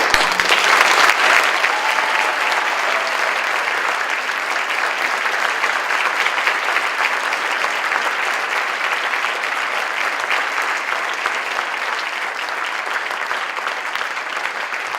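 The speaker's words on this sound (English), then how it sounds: "Let's give Mr. Schmidt a round of applause." Sustained audience applause at a December winter concert, a dense steady clapping that holds at even loudness for the full stretch with no talk over it.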